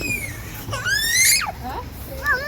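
A child screams in high, rising and falling shrieks, loud and close, with several bursts over a couple of seconds amid household background noise.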